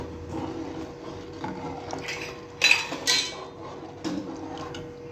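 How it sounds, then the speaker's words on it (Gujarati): Salt being stirred into masala khichdi in a cooking pot: a few scraping clinks of a spoon against the pot over a low steady simmer, with two sharper knocks near the middle, no voices. "અને તેને એકદમ સારી રીતે મિક્સ કરી લઈએ।"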